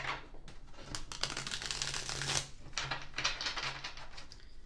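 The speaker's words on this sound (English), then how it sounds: "I have to shuffle one more time" A tarot deck is shuffled by hand, giving a steady run of crisp, papery riffles and slaps of cards close by with no talking.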